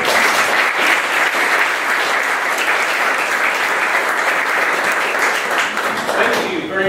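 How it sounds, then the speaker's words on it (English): A crowd gives sustained, dense applause at a startup pitch event in St. Pete, steady and loud throughout before fading slightly at the end. "please give them a warm round of applause"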